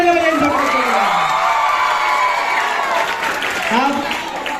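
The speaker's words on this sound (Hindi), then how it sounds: "जोरदार तालियां बजाएं इन छोटे बच्चों के लिए" An audience at a school Republic Day function claps and cheers for young children after a dance, with shouts and whoops rising over the dense applause and voices calling out throughout.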